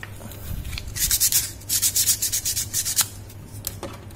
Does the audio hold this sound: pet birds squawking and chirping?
no